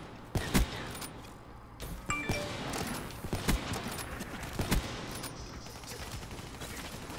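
Gunfire in a Call of Duty-style shooter match, a handful of sharp shots spread across a busy, cluttered game mix with scattered impacts and background action.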